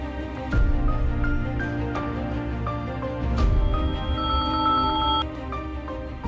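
A phone rings on an outgoing call, its electronic tone repeating in a steady, melodic pattern, moderately loud and with no voices.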